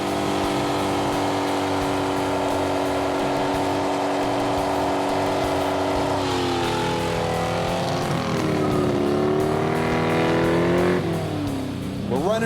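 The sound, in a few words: 1967 Pontiac LeMans doing burnouts with line lock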